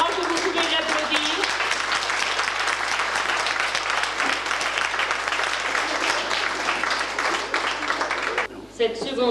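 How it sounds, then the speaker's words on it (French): An audience claps and applauds steadily, a dense wash of hand claps that carries on before fading near the end. "Je crois que vous pouvez l'applaudir."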